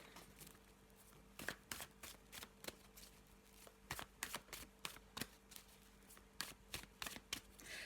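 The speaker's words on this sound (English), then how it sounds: "let's have a little shuffle of the black and white Faulkner deck." A black and white Faulkner tarot deck is shuffled close by, with quiet, uneven bursts of riffling card snaps coming in irregular clusters over a faint background hum.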